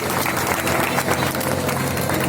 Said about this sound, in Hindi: अब तो और ताली बजाओ